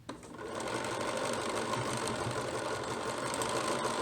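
A sewing machine runs steadily, stitching stretchy fabric for baby bloomers, a close, continuous fast mechanical whirr and rattle after a brief start, with no talking.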